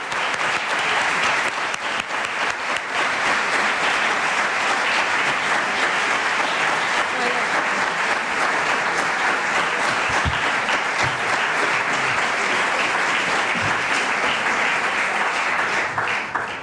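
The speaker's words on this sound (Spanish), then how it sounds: "para el que pide un aplauso" Sustained audience applause welcoming the mayor of Las Rozas, José de la Hoz, onto a stage, steady dense clapping from a large room that holds evenly at full strength throughout.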